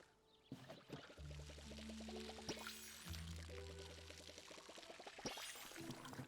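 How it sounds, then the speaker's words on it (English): A cute building video game plays the sound of plants being watered, a soft, steady stream of water pouring and splashing under light game music. "I feel like it takes a very long time to water things."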